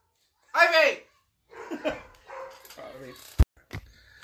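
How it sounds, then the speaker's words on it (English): A single sharp dog bark rings out near the start, followed by people talking and a short thud. "Why don't they stop her from barking?"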